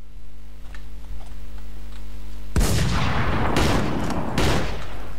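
Rapid bursts of gunfire from the Minecraft OmegaZ mod, loud and dense, erupting suddenly midway after a quieter stretch of faint ticking and continuing as repeated volleys to the end.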